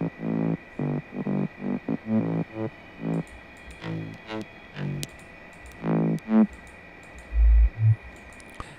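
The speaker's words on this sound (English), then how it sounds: "And now it's time to add some bouncy bass." A bouncy future house synth bass plays short pulsing notes in a choppy rhythm, distorted and punchy, heard alone with a low thump near the end.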